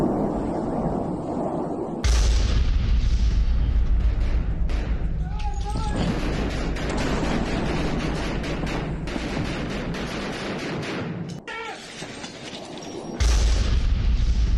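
Bombing explosions in Zaporizhzhia, Ukraine, as heard in news footage: deep booms and low rumbling bursts, with a heavy blast near the start and another near the end, while a voice talks over much of it.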